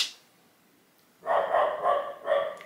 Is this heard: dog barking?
yes